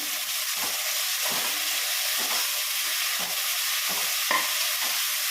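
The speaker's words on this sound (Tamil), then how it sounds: "தக்காளி போடணும். நல்லா கிண்டி விடணும்" Tomatoes frying with softened onions in a pan for vegetable biryani, a constant loud sizzle broken by repeated scraping strokes of a spoon stirring roughly every second, up close and with no talk.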